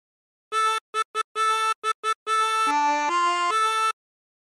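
A short harmonica phrase from "What Shall We Do With the Drunken Sailor": several quick, clipped notes followed by longer held tones that dip and slide in pitch, played alone and clearly.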